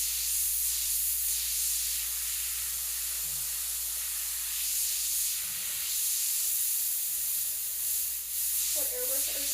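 An HP-CS Eclipse airbrush sprays with a steady, even hiss that holds at close range for the whole stretch, with a brief faint voice near the end.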